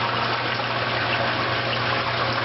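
Water rushes steadily through the sump of a homemade filter system, a constant dense wash of flowing, splashing water, close and unbroken.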